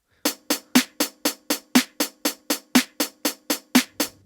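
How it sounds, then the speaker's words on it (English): A crisp, bright programmed hi-hat ticks steadily on every beat, about four quick hits per second with a slightly stronger hit every fourth, played alone with no voices. "so now I've got the hi-hat on every beat."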